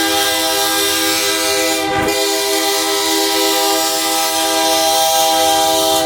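Union Pacific 3990 freight train rolls through Altamont, Illinois, a loud steady rumble of engines and wheels with tonal horn-like drones held throughout, alone with no talk.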